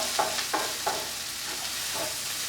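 Onions, garlic and peppers frying in a pan on a stove at medium heat, a steady close sizzle with a few light stirring scrapes on top.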